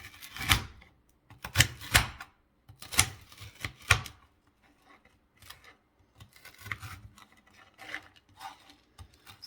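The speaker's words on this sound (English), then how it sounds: "So I'm just gonna cut these into some squares here." A knife slices a pan of marshmallow Rice Krispie cereal bars into squares, making a series of crisp crunching and tapping cuts close up. The cuts are loud and clustered at first, then turn softer and scattered.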